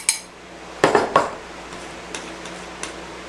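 Flour is stirred into frangipane batter in a bowl, heard as a few close clinks and taps of a utensil against the bowl, a cluster near the start and fainter knocks after, with quiet gaps between.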